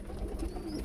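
A pigeon coos softly in a pigeon house, one short low murmuring call close by.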